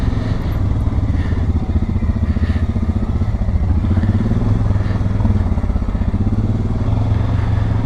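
A motorcycle rumbles steadily underway at a modest pace, its engine a dense continuous drone with faint wind and rattles, loud and close throughout, no clear speech.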